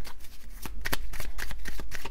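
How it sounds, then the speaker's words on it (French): Oracle cards are shuffled close up in quick, continuous riffles and slaps, a busy papery rhythm heard alone. "j'ai envie de prendre 3 cartes, mais mélanger tout le temps, en fait."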